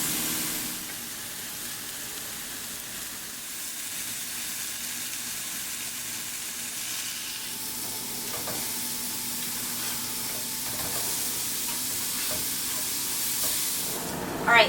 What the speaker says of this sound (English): the burgers are about done cooking on the second side